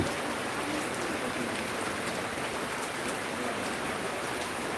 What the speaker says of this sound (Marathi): तर एकदम राईट टायमावर पावसाला सुरुवात झाली